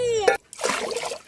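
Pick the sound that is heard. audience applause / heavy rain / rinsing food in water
rinsing food in water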